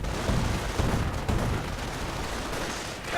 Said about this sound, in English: Incendiary rounds going off.